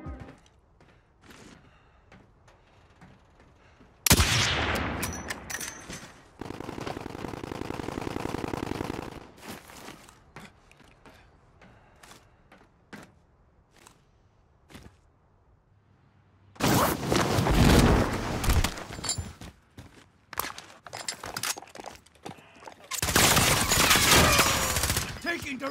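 Call of Duty gunfire, loud bursts of rapid shots in several blocks separated by quieter stretches with scattered clicks and thuds, the later bursts dense and heavy.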